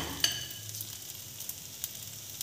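Patisapta pitha batter sizzles softly in a hot pan, a faint steady crackle with small pops and a brief scrape near the start.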